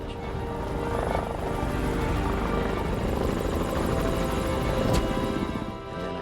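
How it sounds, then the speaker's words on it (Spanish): Steady loud rotor thrum of helicopters flying overhead, continuous throughout with a brief surge near the end. "Escuché a los helicópteros regresar."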